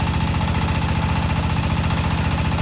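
An army-built water machine engine runs steadily, a loud continuous mechanical drone with a fast regular knocking pulse and no break in level.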